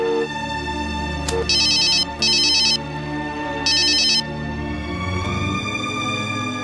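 A mobile phone ringtone plays loudly and steadily, with bright repeated electronic tone bursts in a rhythmic pattern over a sustained musical backing.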